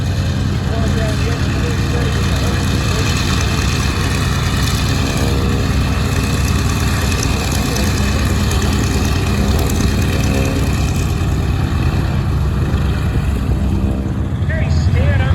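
A WW2 Corsair fighter's radial piston engine at a Reading air show, a loud continuous rumbling drone that persists throughout, with crowd chatter and nearby voices over it.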